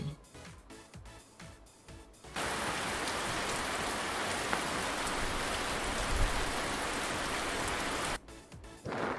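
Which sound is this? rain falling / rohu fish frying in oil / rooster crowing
rain falling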